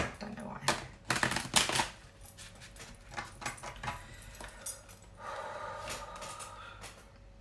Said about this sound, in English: I feel the need to do one shuffle and then we'll pull from the top